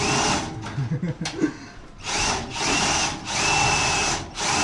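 An old, worn power drill whirs in three long sustained bursts with short pauses between, preceded by scattered clicks and handling noise, fairly close.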